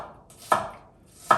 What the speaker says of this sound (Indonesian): bawang merahnya aku potong, jadi supaya nanti gampang untuk ngeblendernya